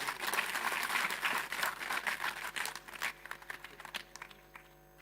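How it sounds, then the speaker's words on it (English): Applause from a crowd at a law and peace symposium inauguration, dense and steady at first, then thinning into scattered claps before fading out. "One more round of applause."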